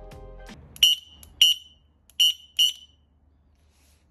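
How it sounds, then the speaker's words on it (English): Electronic horn of a Uscooters Booster V electric scooter: four short, shrill beeps in an uneven pattern, loud and close, after a brief low tone at the start. "This is how the electronic horn sounds like."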